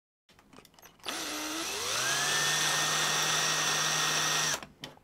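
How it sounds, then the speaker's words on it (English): A power drill bores through a computer power-button area without a pilot hole, its motor whining up to a steady high pitch for several seconds before cutting off, close and loud with no talk. "so we've got our hole drilled"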